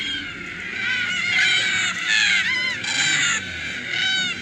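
Harsh, screeching cockatoo calls overlap in a loud, raucous chorus at a watering hole, several birds squawking repeatedly close by.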